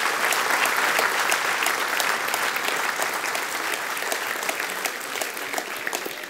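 Dense, steady audience applause at a women's club television show, greeting an actress and singer as she is introduced; loud, continuous clapping runs the whole time and fades slightly toward the end.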